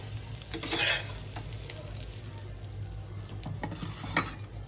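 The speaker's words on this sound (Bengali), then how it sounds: "এবার ভালো করে ভেজে নেব দেখুন ডিমটা একদম পুরো সুন্দর করে চারোদিক দিয়ে লেগে গেছে" An egg-coated paratha for chicken rolls frying in a pan gives a close, steady sizzle with soft scraping and stirring, rising briefly in short bursts, with no one talking.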